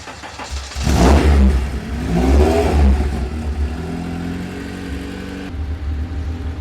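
A rally car engine runs close by, its low steady drone swelling in two strong revs before settling into an even idle.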